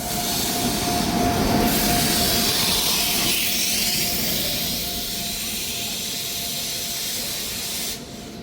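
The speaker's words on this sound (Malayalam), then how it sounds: "അപ്പോൾ നമുക്ക് പോകാനുള്ള ട്രെയിൻ ശതാബ്ദി ട്രെയിൻ വന്നുകൊണ്ടിരിക്കുകയാണ് കേട്ടോ." A Shatabdi Express, a fully air-conditioned train running from Bangalore to Chennai, rolls into a station platform with a loud rumbling roar of wheels on rail and hissing, the noise easing slightly as it slows.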